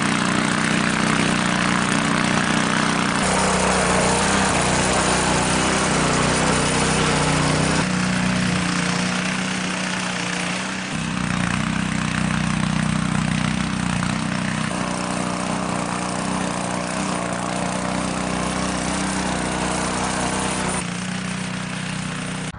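A small Honda gasoline engine running on old gas runs continuously and loudly nearby, a steady droning rumble that holds for the whole stretch with slight shifts in pitch.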